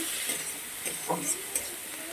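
Ginger paste fries in oil in a pan for a Bengali prawn dish, a soft steady sizzle with a few faint scraping stirs, no talking.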